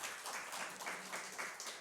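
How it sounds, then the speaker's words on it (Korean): A church congregation claps together, a faint, even wash of many hands applauding, steady and distant for a couple of seconds. "우리 박수 한번 합시다."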